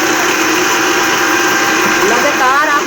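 A kitchen blender runs continuously, churning milk and ice cubes for cold coffee, with a loud, steady motor whir and grinding rattle that stays unbroken and close throughout.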